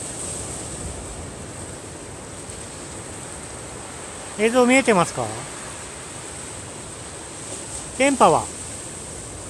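Waves breaking at Sumiyoshi beach in Shikoku, heard as a steady broad wash of surf throughout, with a person briefly speaking twice over it.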